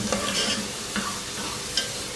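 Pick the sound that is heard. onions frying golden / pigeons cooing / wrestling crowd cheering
onions frying golden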